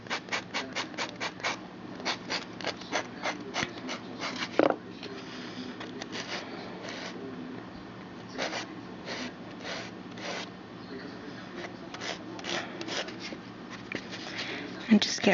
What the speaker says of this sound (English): that's when you want to start buffing again